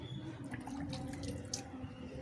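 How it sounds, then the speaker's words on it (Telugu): Water trickles and splashes softly close by, with light drips, as broad bean plant leaves are washed under a gentle stream. The sound is quiet and continuous. "ముందు ఫస్ట్ వాటర్తో ఇలా కడిగేసింది"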